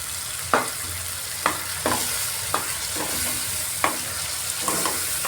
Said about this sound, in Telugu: యాడ్ చేసుకొని మొత్తం ఫ్రై చేసేసుకోవాలి.